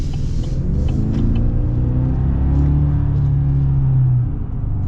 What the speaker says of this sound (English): Definitely sounds like a turbo 4-cylinder.